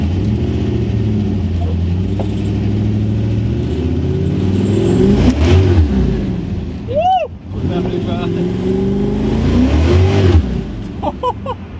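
A 1967 Mustang with a 347 stroker engine roars loudly and continuously through a burnout, the revs swelling and dropping with a brief squeal, while people shout excitedly nearby.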